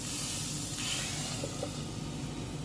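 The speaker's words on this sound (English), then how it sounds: "And you let that water steam" Water steams in a pan under a metal cover while cheese melts on a burger, giving a loud, constant hiss that runs unbroken from start to finish.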